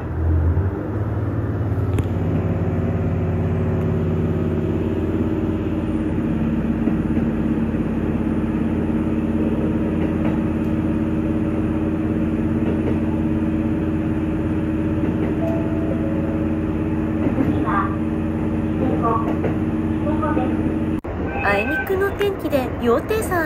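A KiHa 281 series diesel train rumbles steadily along at close range beside a river in fog, a low continuous mechanical drone with engine hum throughout, growing noisier near the end.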